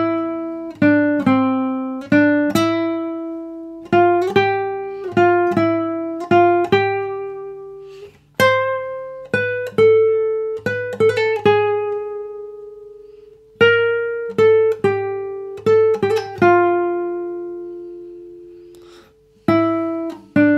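Classical guitar picks out the bare melody of a famous tremolo piece, clear single plucked notes in a steady, unhurried line with brief pauses, close and alone with no talking.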